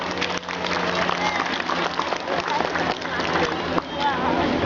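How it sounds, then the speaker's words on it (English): An audience applauds at a Pacific white-sided dolphin show at the Vancouver Aquarium, a loud, sustained wash of clapping and crowd noise with a presenter's voice over it. "Let's give these animals a huge round of applause."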